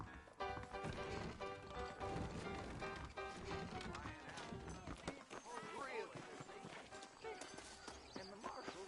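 Horse hooves clip-clop in the Red Dead Redemption video game, a steady rhythmic patter under game music and dialogue, with an occasional whinny.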